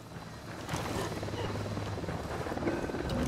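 A helicopter in Ghost Recon Wildlands hovers nearby with a steady, dense rotor wash and engine roar that holds at even loudness throughout, heard alone without voices.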